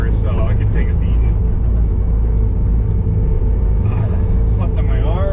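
A skid steer clears large snow piles in 2-speed, its diesel engine rumbling loud and constant throughout, with a few short squeaks and clanks rising above it.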